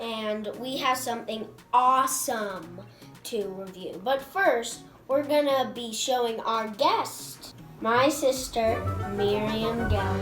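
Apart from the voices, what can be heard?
No distinct noise like a dog, phone or traffic.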